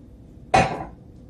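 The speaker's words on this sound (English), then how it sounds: "Mix it up a little bit." A single sharp metallic clink of a utensil against a pot while stirring a milk-based Indonesian-style soup, close and fairly loud, ringing out briefly before fading.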